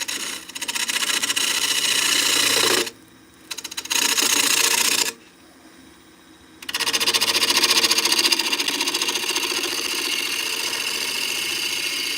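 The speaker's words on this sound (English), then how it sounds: "That's a spindle gouge." Continuous high rasping whir of a spindle gouge cutting wood on a lathe, loud and close, broken by two brief pauses before resuming.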